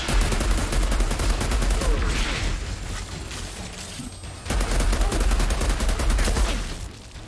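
Gunfire in the video game Outriders, a loud, rapid crackle of automatic shots in long bursts, briefly dropping quieter midway before resuming at full intensity.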